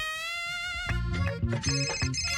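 A phone ringtone plays: a steady electronic tone at first, then a melodic multi-note ring tune, moderately loud and close, with no talking.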